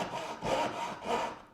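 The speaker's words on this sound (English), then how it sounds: "The same goes for using a coping saw." A coping saw cutting through wood held securely, giving steady rasping back-and-forth strokes in a clear rhythm, close and moderately loud with no talking.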